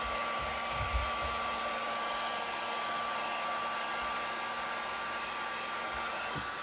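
A hair dryer blows steadily on chalk paste on a Chalk Couture home sled craft, a constant even whir heard on its own with no talking.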